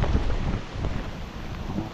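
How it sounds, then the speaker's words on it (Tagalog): Steady, dense rain pours down close by, a continuous broadband hiss with no pauses, heavy and even throughout. "Maulan po talaga dito."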